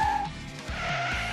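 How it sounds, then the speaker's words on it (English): Lunar remote control stunt car spinning 360 degrees, its small tires skidding and squealing in short rising and falling swoops over a steady motor whine, close and fairly loud. "It doesn't just rotate 360 degrees, it spins."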